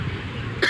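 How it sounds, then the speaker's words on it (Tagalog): A single short cough bursts out near the end after a stretch of quiet background hum. "Inuubo pa rin ako."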